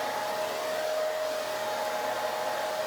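A hair dryer fitted with a diffuser blows steadily while drying curly hair, giving an even, unbroken whirring hum at moderate volume with no talking.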